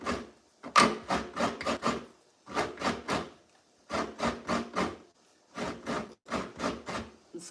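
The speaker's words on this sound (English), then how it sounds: "First, you have to get this Asian grater here." Coconut is scraped on an Asian grater in a series of rhythmic rasping strokes, grouped in quick bursts of three or four with short pauses between, close and crisp.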